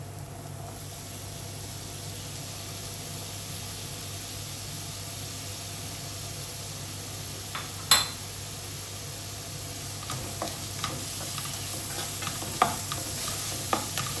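Chopped pineapple is stirred into pork vindaloo in a pan, giving a soft continuous sizzle, with scraping and clinks of the spoon against the pan growing busier in the second half.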